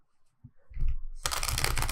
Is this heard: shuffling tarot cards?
yes